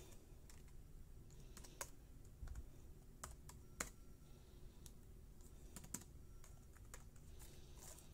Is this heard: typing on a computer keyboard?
yes